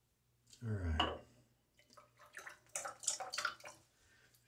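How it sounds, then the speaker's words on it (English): Water shaken out of a wet shaving brush, a quiet series of splashes and spatters over a few seconds, with a brief voice near the start. "Shake out a lot of the water because this brush holds a good bit."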